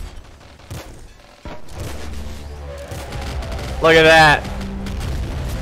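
Weapons fire in Nuclear Throne, with a five-shot gun among them: punchy shots and booms in quick bursts that peak in a loud blast partway through, mixed with game effects under a voice.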